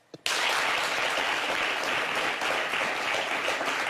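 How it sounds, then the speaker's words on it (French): Audience applause for a guest on a French talk show breaks out suddenly after a brief pause, a dense, steady wash of many hands clapping that stays loud and even to the end. "Applaudissez."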